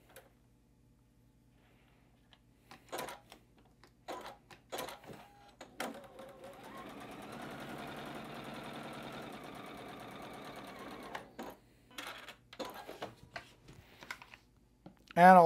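A sewing machine stitches a pieced batik quilt block, running in one steady whirring burst of several seconds in the middle, framed by short clicks and handling noises before and after.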